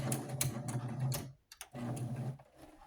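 A sewing machine back stitching along the edge of a scrap-fabric doll quilt, a steady close mechanical whir with rapid ticking stitches, pausing briefly midway before running again.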